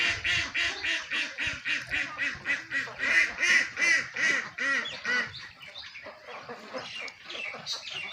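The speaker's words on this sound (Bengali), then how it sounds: "দেখছেন এগুলো খাকি ক্যাম্বেল জাতের হাঁস।" Khaki Campbell ducks raised free-range on a farm quack close by in a rapid, rhythmic series of loud calls that slows and thins out toward the end.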